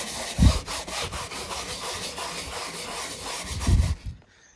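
Rhythmic hand polishing of gelcoat on a 1990 Boston Whaler 19 Outrage boat, a steady back-and-forth scrubbing with heavier strokes at the start and end, close by and without talk.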